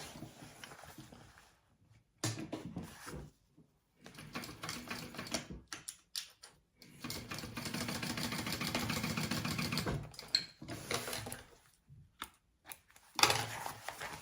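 A sewing machine stitches a dart in bag lining, running in bursts of mechanical whirring with pauses between passes, one long steady run in the middle, fairly close and moderately loud.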